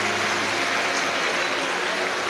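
A large audience at a Shiv Mahapuran katha gathering in Surat claps hard and steadily, a loud, unbroken burst of applause welcoming the event's organizer, with a voice faintly present underneath.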